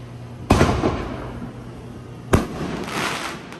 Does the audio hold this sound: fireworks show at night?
yes